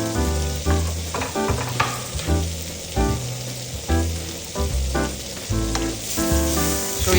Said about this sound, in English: we're just going to sweat these onions for maybe 10-20 seconds because they're cut so fine